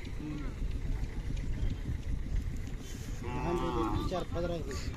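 Khillar cows and bulls at a village fair low and moo close by, one long, loud call rising over a crowd murmur, with people talking in the background.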